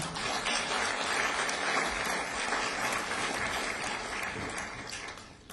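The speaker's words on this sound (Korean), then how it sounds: "여러분 다시 한번 큰 박수 부탁드립니다." A big round of audience applause at a ceremony commemorating the third anniversary of the October 4 inter-Korean summit, dense and steady clapping that fades slightly at the end.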